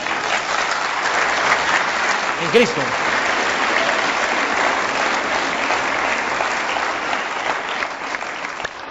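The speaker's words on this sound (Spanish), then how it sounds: "¿Cuántos dan un aplauso al Señor?" A church congregation applauds with loud, continuous, dense clapping that holds steady, while a preacher's voice speaks briefly over it.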